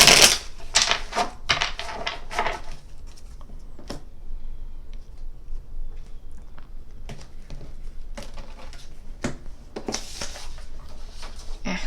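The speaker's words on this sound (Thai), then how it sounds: "เดี๋ยวจะขอหยิบไพ่ให้กับชาวมีนนิดนึงนะ" Tarot cards being shuffled and drawn during a reading, heard as a run of crisp, close riffling and snapping bursts followed by scattered light taps and flicks, with no talking.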